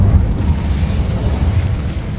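The Bombarda explosion spell blasts in the video game Hogwarts Legacy, giving a heavy, rumbling boom that churns on loudly for a couple of seconds with low, rolling energy and no speech.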